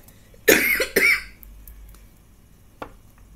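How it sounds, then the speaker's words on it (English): A single person coughs twice in quick succession, close and loud, then a faint throat sound follows against a quiet room. "I coughed on that moment there"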